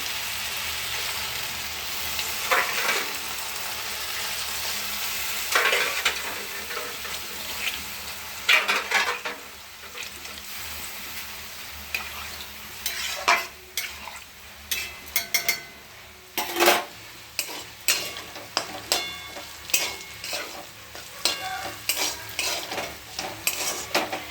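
Food fries in a pan while a spatula stirs and scrapes it, a steady sizzle under repeated metallic clinks and scrapes that grow more frequent toward the end, with no voices.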